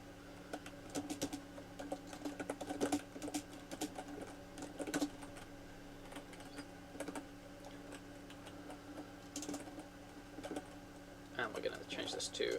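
Someone types code on a computer keyboard in dense bursts of close, crisp key clicks, with pauses between runs and a talking voice over parts of it.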